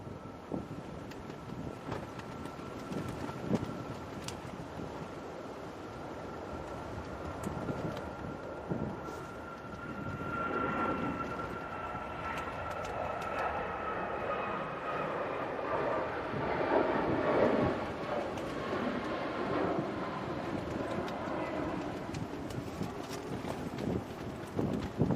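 Strong gusty storm wind buffets the microphone at Manchester Airport during Storm Amy, a steady broadband roar that swells and surges over about twenty-five seconds, with faint aircraft engine rumble underneath.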